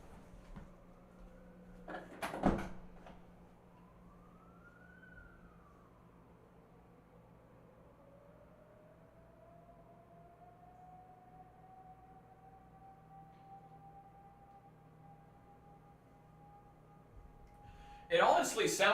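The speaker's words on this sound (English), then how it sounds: "It honestly sounds like a nuke alarm." A rising and falling alarm siren wails outside, faint and far off, one long steady tone sweeping up and holding, with a couple of sharp nearby knocks and some clatter at the end.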